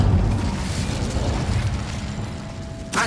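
The Incendio fire spell cast in Hogwarts Legacy, a whooshing fiery burst with rumbling, crackling decay that fades, followed by a brief new burst at the very end.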